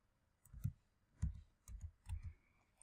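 Computer keyboard keys clicked and typed in a few short bursts, close and fairly faint in a quiet room, no talk.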